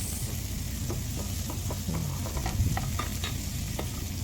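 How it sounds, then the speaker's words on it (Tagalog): Garlic, onion and ginger sautéing in a pan, a steady close sizzle with soft scraping and stirring knocks throughout, no voices. "gigisa na din ako ang mga lamas ahos sibuyas ug ang luya"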